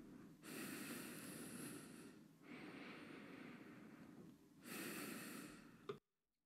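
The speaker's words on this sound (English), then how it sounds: "my condenser mic would pick up any room sounds around me and the sound of my breathing" Close, breathy inhales and exhales caught by a condenser microphone in a room, three long airy breaths with short pauses between, ending abruptly in silence.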